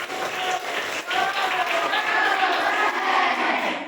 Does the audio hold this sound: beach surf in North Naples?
no